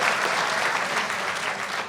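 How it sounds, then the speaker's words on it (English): A studio audience claps for George Conway, a dense, even burst of applause for about two seconds that fades slightly toward the end, with no speech over it. "Everybody wants to clap for George on that."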